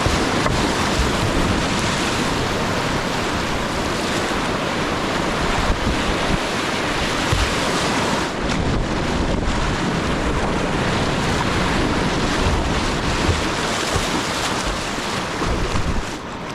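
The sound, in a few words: whitewater river rapids on the Upper Russell Fork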